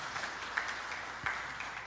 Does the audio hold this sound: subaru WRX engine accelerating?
no